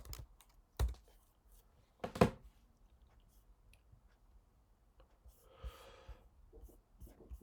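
Keys tap on a computer keyboard close by: a few sharp, isolated clicks spread out amid near-quiet, followed by a short soft rustle.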